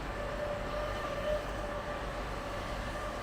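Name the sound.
camera drone flying overhead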